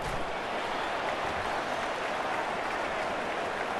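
A stadium crowd in the College Football 25 video game cheers a punt return, a dense and continuous roar with applause that holds at a constant loud level.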